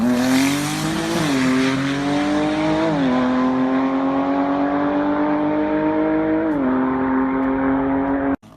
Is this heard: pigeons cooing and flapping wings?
no